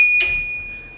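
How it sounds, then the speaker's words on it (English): A single bright ring from the bell on a Bird ES1-300 electric scooter, struck once close up with a clear sustained tone that slowly fades. "It comes with also a bell"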